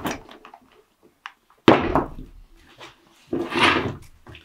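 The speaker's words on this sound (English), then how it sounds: "Satisfying thud." A parachute rig is flipped over and lands with a solid thud, surrounded by rustling of straps and fabric and a later burst of shuffling handling noise.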